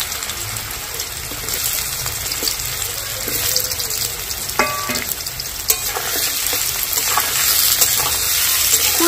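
Peeled amla gooseberries drop into hot mustard oil and fry with a steady, close broadband sizzle that builds slightly louder toward the end, with a few sharp spatters and utensil touches and no talking.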